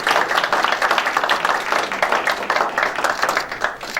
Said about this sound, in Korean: 다시 한번 전동의 분들께 큰 박수 부탁드리겠습니다.